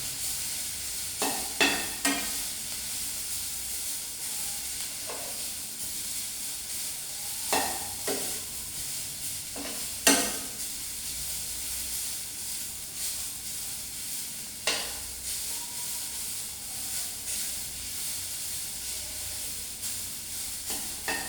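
Grated coconut frying in a pan with mustard seeds while being stirred, steady sizzling broken by scraping strokes of a spoon against the pan at irregular intervals.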